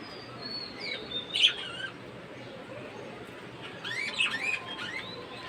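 Birds coming close to eat leaves chirp and tweet in two short bursts, bright and near, over a low background hum.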